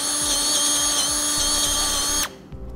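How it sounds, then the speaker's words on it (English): A power drill bores a hole near the base plate rail on a 2010 Mini Cooper, its steady high whine running continuously with faint rhythmic ticks beneath, then cutting off abruptly near the end. "We'll also drill out the hole just in front of that, located just behind our base plate rail."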